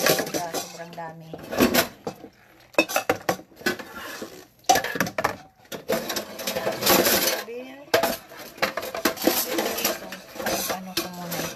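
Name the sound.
cooking pots and dishes clinking while being washed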